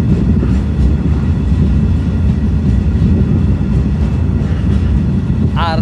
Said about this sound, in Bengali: আমাদের ট্রেনটি এখন ভাঙা যে ওভারপাস রয়েছে সেই ওভারপাসের দিকে চলে এসেছে